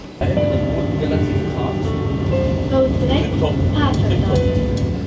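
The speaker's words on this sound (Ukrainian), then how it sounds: "Чекаю трамвай, сідаю і їду." A tram in Luxembourg rumbles steadily, heard from inside, with a constant low drone and faint squeals and clicks from the rails.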